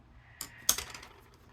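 Scissors cutting through card stock along a template line for a pop-out square card, two crisp snips close by, the second louder, with no talking.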